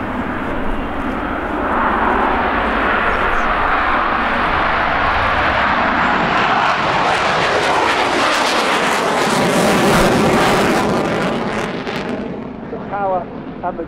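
At an air show display, a Polish Air Force MiG-29 fighter with two Klimov RD-33 turbofans roars loudly as it passes, its broad jet noise swelling, sweeping in pitch as it flies by and then fading slightly.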